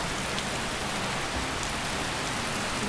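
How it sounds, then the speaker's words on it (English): Steady, dense rainfall in the video game Daggerfall, outside a temple north of the town, hissing evenly and loudly throughout with no breaks or voices. "And of course, it's raining."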